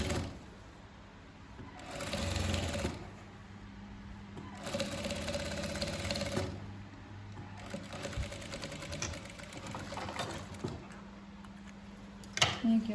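A sewing machine stitches a folded fabric edge on an ethnic patchwork kurak bag, running in several close, steady bursts of mechanical whirring separated by short pauses.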